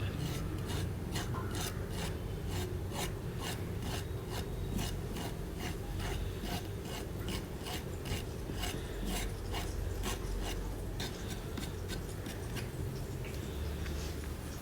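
A knife scrapes the sap off green banana skins for Kerala-style chips, making rapid, rhythmic rasping strokes that repeat steadily and close by throughout.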